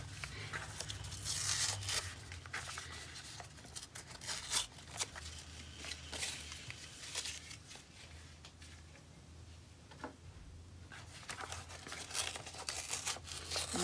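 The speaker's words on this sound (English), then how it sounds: "I don't want to tear too much because I don't want to tear through to the paper" Paper being torn away from a handmade junk journal cover, with quiet ripping bursts and crinkling that come in irregular waves over a soft background.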